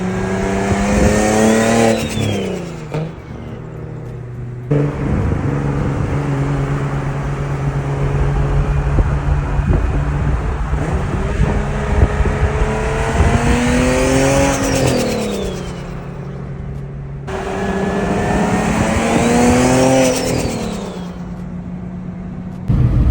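An Audi RS6 cruises on the road, its engine droning steadily and rising and falling in pitch with throttle changes, loud and close, with louder revving stretches near the start and end.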